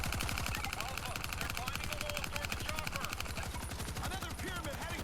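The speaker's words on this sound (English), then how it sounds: "Gatling gun, machine gun." Rapid Gatling machine gun fire in the zombie shooter World War Z, a dense unbroken stream of shots over game noise and clutter, with a voice talking faintly underneath.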